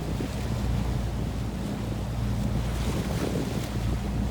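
A Rival 41 sailboat's engine drones steadily at sea without a break, mixed with wind buffeting and water rushing past the hull.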